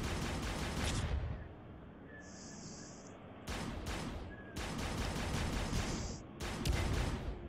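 Rapid bursts of laser gun fire from the VR shooting game Poly Runner VR, loud close volleys separated by brief pauses, with a faint electronic tone sustained in the background.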